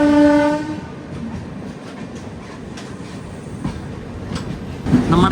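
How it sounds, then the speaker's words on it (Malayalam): Mangala Express hauled by a WP7 locomotive passing close by, opening with a loud horn blast, then a steady roar of wheels and rattling coaches with clickety-clack rhythm. "2 മണിക്കൂർ 50 മിനിറ്റ് ലേറ്റ് ആയിട്ട് ഇതേട്ട ഇറങ്ങി വരുന്നത് മംഗള എക്സ്പ്രസ് ആട്ടോ."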